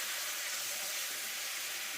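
Onions and garlic with a splash of Coke sizzle steadily in a pan, a continuous hissing crackle that stays even and close throughout with no talk.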